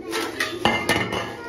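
Plates and dishes clink and knock together in a few close, bright hits over a short moment while biryani is being served.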